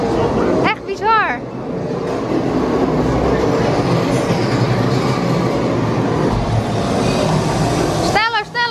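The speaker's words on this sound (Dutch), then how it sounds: "Je hoort ook echt die treinen" A Hogwarts Express theme park train ride fills the space with a loud, steady rail rumble and clatter. Excited voices speak over it at the start and again near the end.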